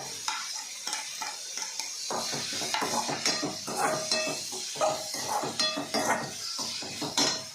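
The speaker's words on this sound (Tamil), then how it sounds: "கொஞ்சம் வதங்கட்டும் இந்த தக்காளியும் போட்டுருவோம்" Tomatoes and onions for egg kurma sizzle and fry in a pan, with steady close crackling broken by repeated scraping stirs of a spoon against the metal.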